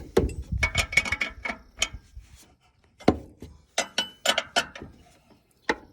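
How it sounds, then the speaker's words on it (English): A 3/4 inch wrench loosening a nut on a Thunderstruck Ag iPaddock Typhoon install, a string of sharp metallic clicks and knocks in irregular bursts with short pauses, close and fairly loud. "All you need to do is loosen up this nut here. It's a 3/4 inch wrench."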